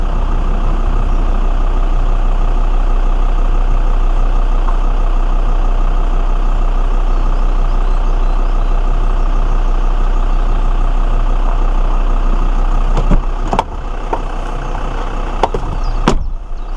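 Land Rover Discovery 2 engine labouring steadily up a straight green-lane climb on the North York Moors, a loud continuous drone throughout with a few sharp knocks and rattles near the end.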